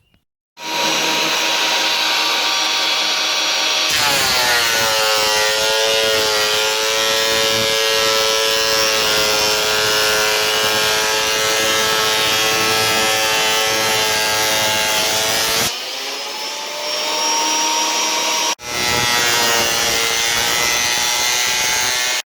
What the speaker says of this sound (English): we're going to use this, which is a surface planer